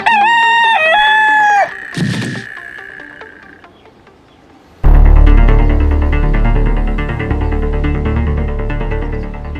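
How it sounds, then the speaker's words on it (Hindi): A rooster crows once, loud and close, with a rising then sustained cock-a-doodle-doo, followed by quiet and then a burst of loud music. "कहीं असली मुर्गा कुकड़ू को कर रहा है अभी"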